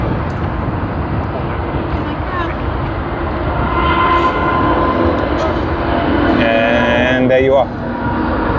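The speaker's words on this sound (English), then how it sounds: "that's the last A380 departure on our live show for today" An Airbus A380 airliner takes off at Sydney Airport, producing a broad, continuous jet roar heard from a distance while a person talks over it.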